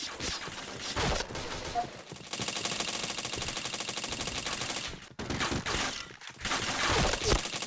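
Rapid automatic gunfire in a shooter video game, with long sustained bursts broken by short pauses, loud and dense throughout, with a voice faintly audible underneath.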